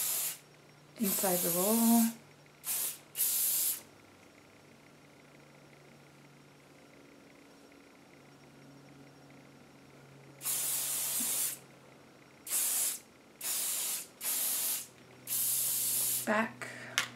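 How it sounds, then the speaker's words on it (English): Hairspray sprayed onto hair while styling a pinup front roll: short hissing bursts, two near the start, then a run of five or six quick sprays later, close by, with someone talking briefly between them. "Now I'm going to go ahead and hairspray"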